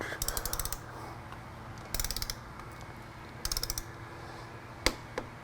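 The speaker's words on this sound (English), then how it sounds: "We'll do it by hand first, and then put the torque wrench." Torque wrench tightening a motorcycle front wheel to 22 Nm: three short bursts of rapid ratchet clicks with gaps between, then a couple of sharp single clicks, close and fairly quiet.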